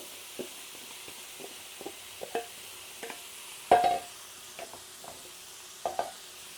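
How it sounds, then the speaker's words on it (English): Pork and onions fry quietly in a pan, faint soft sizzling under scattered clicks and taps of a utensil stirring, with one louder scrape midway. "now that the pork is pretty much done, I'm going to add my onions"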